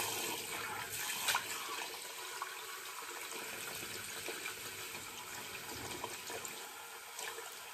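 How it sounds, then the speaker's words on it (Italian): Water runs steadily from a tap into a sink as a face is rinsed after a wet shave, a continuous close splashing hiss with no voices. "risciacquiamo il viso."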